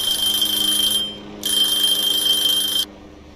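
Kitchen timer in the video game Cooking Simulator rings in two bright, steady electronic bursts, about a second and then about a second and a half long, with a short gap between them and no talk.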